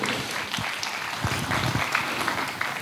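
A church congregation at a Sunday service claps to welcome first-time visitors. The applause is moderate, steady and fairly close, a continuous patter of many hands for about three seconds, with faint voices underneath.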